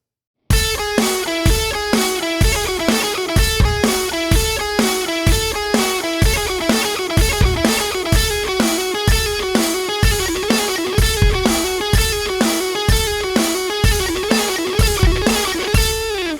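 An electric guitar repeats a rock lick in quick bursts at full tempo, each burst a fast run of picked notes over a steady pulse, bright and loud with no talking.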